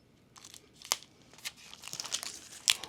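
Heavily taped package for New Comic Book Day being torn open, close crinkling, crunching and ripping of tape and packaging in irregular bursts that build toward a sharp final rip.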